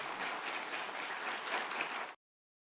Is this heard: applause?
yes